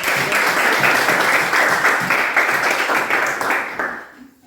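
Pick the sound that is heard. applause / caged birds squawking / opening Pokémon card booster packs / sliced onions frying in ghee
applause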